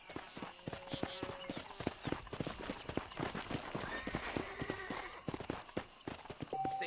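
Horse hooves clip-clop in a steady rapid gallop in the video game Red Dead Redemption, with a brief whinny partway through, all fairly quiet under faint background game sound.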